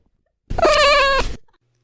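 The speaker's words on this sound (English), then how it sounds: "I'm joined by another guest, my cat Lucy." A pet cat gives a single clear, drawn-out meow lasting close to a second, loud and near, against an otherwise silent indoor background.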